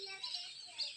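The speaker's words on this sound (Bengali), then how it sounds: "পাখির কিচিরমিচিরে কিছু শোনা যাচ্ছে না" Birds chirp and twitter continuously in an outdoor natural setting near an umbrella-shaped tree, a dense, bright chatter that stays steady and fairly close, with no talking.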